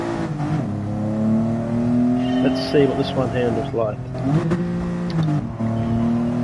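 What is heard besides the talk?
car engine revving in the video game GT Sport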